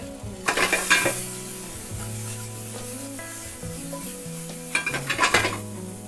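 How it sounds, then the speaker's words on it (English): Potatoes with a little water frying in a single pot, a steady close sizzle broken by two bursts of stirring and scraping against the pot, with no talking. "our potatoes sounding good"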